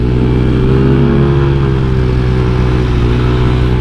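A small motorcycle engine with a newly opened-up, tuned motor making about 15 hp holds a high-rpm whine near 9,000 rpm, loud and close, with a steady droning tone that rises slightly in pitch.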